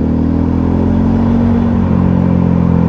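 An Italika Vort-X 300R motorcycle rides along at a steady, loud engine drone close to the microphone, holding an even pitch with a slight shift partway through.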